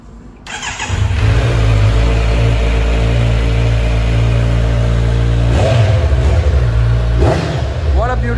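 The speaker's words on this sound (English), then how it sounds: "What a beautiful exhaust note." A Kawasaki Ninja 500 motorcycle engine fires up and settles into a loud, deep rumble, with two sharp revs rising and falling near the end.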